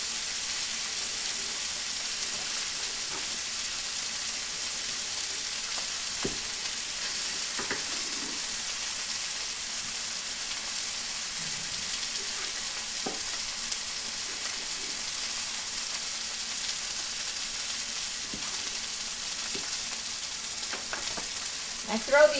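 Chicken pieces fry in a pan with a constant bright sizzle, broken by occasional soft scrapes and taps as the pieces are moved around the bottom of the pan.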